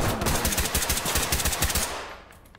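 Automatic gunfire emptying a full magazine in the tactical shooter video game Ready Or Not, a loud, rapid continuous burst of close shots that ends abruptly, followed by a short decaying echo.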